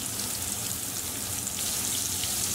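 Pakistani chapli kebab patties fry in a pan over medium-high heat, giving a dense, even sizzle that crackles like steady rain throughout.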